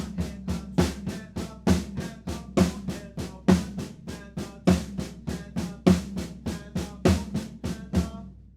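Drum kit plays a metric modulation groove at a slow tempo, a steady stream of close, punchy hits with regular accents and no talking.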